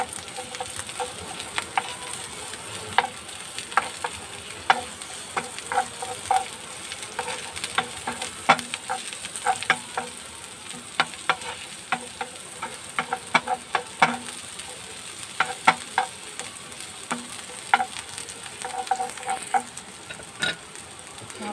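Onions sautéing in a hot pan give a steady, loud sizzle with crackling pops and occasional stirring scrapes throughout, close up and unbroken, with no talking.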